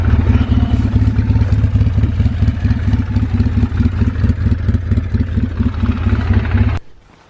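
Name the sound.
vehicle engine while driving to the next spot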